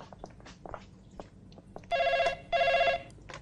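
A telephone rings in two loud, steady electronic bursts with a short gap between them, following quieter background movement and muffled sounds in an indoor scene.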